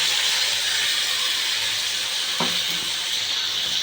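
Paste of ground cashew, white sesame, green chilli and ginger poured into a hot pan with potato, onion and capsicum, giving a steady loud hiss throughout with a brief sharper burst of sizzle partway, no voices.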